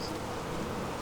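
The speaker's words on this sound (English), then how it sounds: "This thing is slamming with bees." Honey bees swarming thickly around a crowded beehive: steady, dense buzzing hum, close and continuous through the short moment, no voices.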